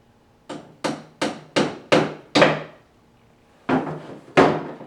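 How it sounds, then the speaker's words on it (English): Hammer strikes driving nails into the wooden sides of a handmade toolbox: six sharp, evenly spaced blows in quick succession, a pause, then two more, each ringing briefly in a quiet room. "take 2 nails, and hammer them in"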